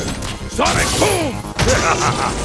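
A Sonic Boom special attack in Super Street Fighter IV AE during a tournament match, heard as sharp game impact effects and whooshes mixed with loud crowd and commentator noise.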